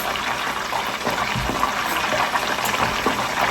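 Beef egg rolls fry in hot grease in a home kitchen, giving a continuous, busy sizzle and bubbling hiss at close range with no talk over it.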